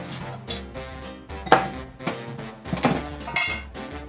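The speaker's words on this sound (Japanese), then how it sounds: "茹で上がったらお湯を切ってボウルに移す。" Boiled pasta is drained and moved into a bowl, with repeated metallic clinks and clatters of utensils against cookware in an irregular series at close range.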